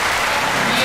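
Dense audience applause fills a large hall at a celebration event for an organization's 30th anniversary, steady and loud, with crowd noise and a voice over it.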